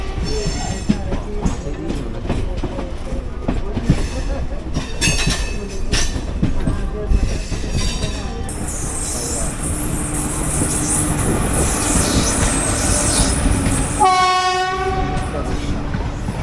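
A local train pulls into Dum Dum station amid rattling clickety-clack of wheels and squealing brakes, then a long, loud horn blast sounds near the end over the rumble of the carriages.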